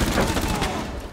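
Loud, dense burst of gunfire in Rainbow Six Siege, a rapid fusillade of shots fired through a floor, filling the short moment with continuous crackling impacts and no speech.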